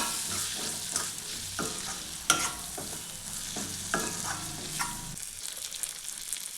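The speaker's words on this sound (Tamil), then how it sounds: "சேர்ந்துட்டு நல்லா கலக்கி விடுங்க" Potatoes and radish leaves get mixed in a hot pan, a close sizzle punctuated by a series of distinct spatula knocks and scrapes that stop near the end, leaving a softer hiss; no one speaks.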